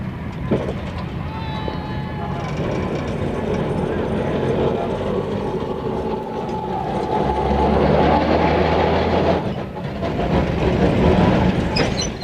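Rail Scrubber 2, a tram car hauling a drinking water trailer, rolls along the tracks into Esplanade amid busy city noise, a steady rumbling roll with a low hum swelling midway, and voices faintly in the background.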